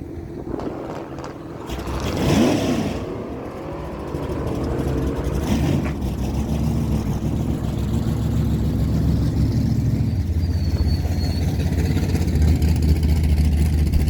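Drag racing engines from a 2017 Ford F-150 and a 1966 Pontiac GTO at a dragway, one steady roar of revving engines that swells early and holds loud throughout, with no voices.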